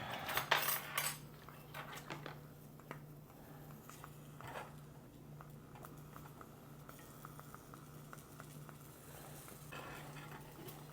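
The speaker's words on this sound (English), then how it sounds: "I don't know if you can hear it, but it's sizzling." Mushrooms fry faintly in a pan over an alcohol stove in a hotel room, a low sizzle under the clink and scrape of a fork stirring against the pan, with a steady hum beneath.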